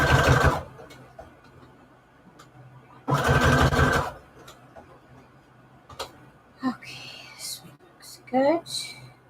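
Sewing machine stitching small paper embellishments for a Christmas junk journal, two short loud bursts of rapid mechanical stitching separated by quiet, close by, followed by faint talking.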